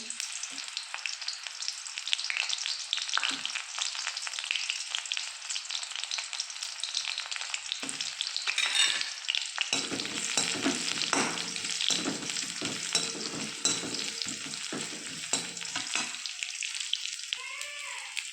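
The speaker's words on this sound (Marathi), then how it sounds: "फ्राय होते" Onions sizzle steadily in hot oil in a kadai, a dense crackling hiss with occasional stirring scrapes, close and continuous with no talking.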